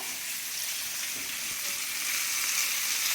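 Chicken wings fry in oil with a steady, fairly quiet sizzle and crackle throughout, with a faint stir or flip partway through and no talking.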